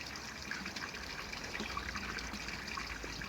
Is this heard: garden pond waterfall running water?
yes